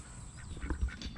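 Several homestead ducks quack faintly in short irregular bursts over low background rumble, with no one talking.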